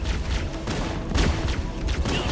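Heavy gunfire from a video game played on a first-generation Intel Mac mini: a dense, continuous rattle of shots and bursts, loud and close with no voices.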